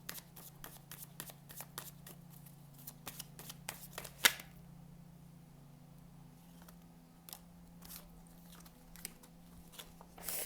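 Tarot cards shuffled and laid down, a rapid series of light, crisp riffling clicks close to the microphone, then a pause and a further run of soft card snaps, heard alone without talk.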